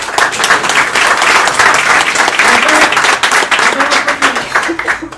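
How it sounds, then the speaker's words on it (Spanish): A meetup crowd at a JavaScript developer gathering claps loudly and continuously at the close of the talks, a dense, sustained burst of applause with some voices mixed in, tapering slightly near the end. "Un aplauso para todos."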